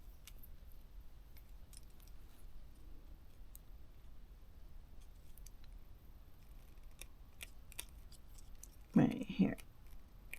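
Scissors snip through goddess bracelet material in quiet, faint clicks, ending in a brief, louder burst of cutting near the close.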